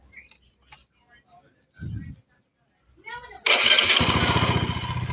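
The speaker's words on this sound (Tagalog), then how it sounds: "Tapos pandarin natin ulit yung motor." After a few quiet mechanical clicks and a low murmured voice, a motorcycle with a 28mm carburetor being tuned cranks and fires up, settling into a loud, close, steady idle.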